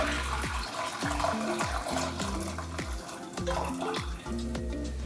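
Bissy tea poured through a strainer into a pot in a Jamaican kitchen, a close, steady liquid stream with dripping and gurgling, heard alone with no talk.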